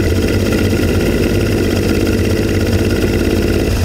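Suzuki DT55 outboard motor idling while not warming up properly, a steady, loud, low rumbling idle that stays close and unchanged throughout.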